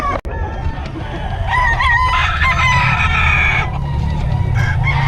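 Chickens cluck and a rooster crows repeatedly, close and loud, from quality fighting-type fowl brought by a visitor in Bocaue, with steady farmyard clamor throughout.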